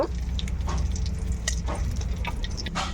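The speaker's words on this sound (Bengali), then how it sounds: "এবার আমি তেলটাকে ভালোভাবে গরম করে নেব।" Oil heats in a kadai where an egg was just fried, giving a moderate, close, crackling sizzle with scattered pops and spits over a steady hiss, with no voices.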